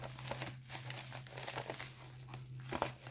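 A plastic bag is opened at the top, giving close, quiet, continuous crinkling and rustling of plastic with small crackles, over a low steady background hum and no speech.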